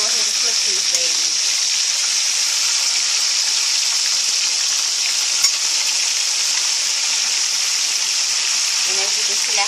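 Pork chops fry in a pan with a loud, dense, steady sizzle that runs close and continuous, with one faint knock midway.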